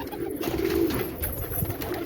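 Pigeons crowd a rooftop terrace, giving soft, steady cooing close by over a low hum of background noise, with no talk.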